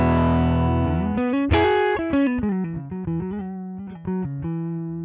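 Electric guitar played through a Line 6 Helix US Princess amp model miked with a condenser two inches back: a slow bend into a series of clean-to-driven single notes and short phrases, close and alone.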